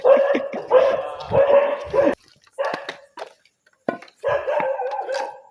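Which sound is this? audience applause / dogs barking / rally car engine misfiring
dogs barking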